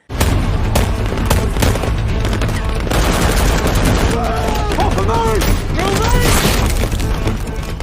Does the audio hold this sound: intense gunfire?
yes